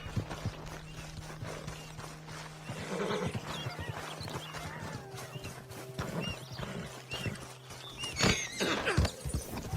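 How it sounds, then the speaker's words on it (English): Horse hooves clop in an uneven rhythm with snorts and a sharp whinny, over a low steady hum, loud and close, in the video game Red Dead Redemption 2. "you couldn't help me get my old horse back from over there"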